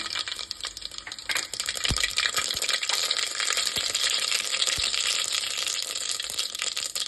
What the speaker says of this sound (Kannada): ಎಣ್ಣೆ ಕಾದಿದೆ, ಸಾಸಿವೆ ಹಾಕ್ಕೊತಾ ಇದ್ದೀನಿ